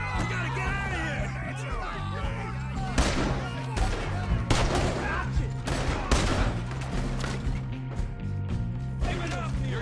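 Rapid, loud gunfire in a Red Dead Redemption 2 shootout, overlapping shots and bursts crackling throughout amid dense game sound, with shouting voices in the mix.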